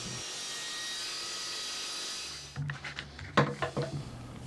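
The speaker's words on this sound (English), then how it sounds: "here I am ripping it down to proper width" A SawStop jobsite table saw rips wood to width: a steady, loud blade whine for about two seconds, then it drops off into irregular knocks and scraping as the board is handled.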